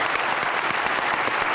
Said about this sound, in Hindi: दुनिया भर के सारे स्पोर्ट्स के जितने भी कोचेज हैं उनके लिए जोर की ताली बजाएं